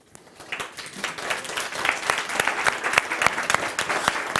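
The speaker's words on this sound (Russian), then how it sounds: "Хлопать не торту, хлопать презентации" An audience at a product presentation breaks into steady applause, a dense patter of many hands clapping at moderate distance, rising slightly and holding for a few seconds with no speech over it.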